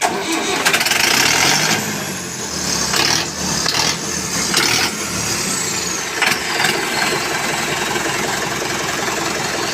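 A small farm tractor engine with a fault cranks and starts, then runs loud and rough for several seconds, close by and continuous.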